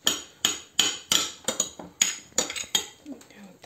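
A knife cuts an avocado on a board, making about ten sharp, evenly spaced chopping knocks close up. The knocks grow slightly quicker and lighter toward the end, with faint kitchen clatter.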